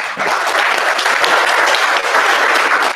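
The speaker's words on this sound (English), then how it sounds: "Let's give Corey another round of applause." Audience applause for a presenter at a 1 Million Cups Little Rock startup pitch event, loud, dense and continuous clapping close by, filling the whole stretch.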